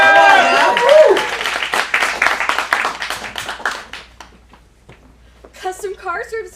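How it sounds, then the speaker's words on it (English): An audience at an adult acting showcase breaks into clapping and cheering for the first sketch, loud at first and fading out over a few seconds, with a voice speaking over the start. "Let's give a round of applause for our first sketch of the night."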